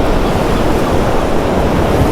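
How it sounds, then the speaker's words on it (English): Surf washing in at a beach beside a boardwalk in Atlantic City, a steady loud wash of broken waves with a constant broadband roar and no pause, close to the shore. "Oh, those waves are high."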